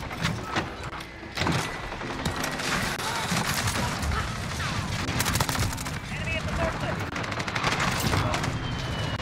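Constant gunfire in a Modern Warfare multiplayer match, including shots from an MP5 submachine gun, with dense rapid bursts and mechanical clatter running throughout, and a player talking over the shooting.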